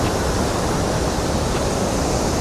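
Water pours down in a steady, loud, unbroken rush and splashes below a tall waterfall in Taiwan, with no other sound standing out.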